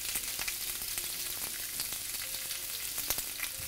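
Food griddling on the boiling plate of an Everhot range cooker, a steady close sizzle and crackle running throughout with a few sharper pops.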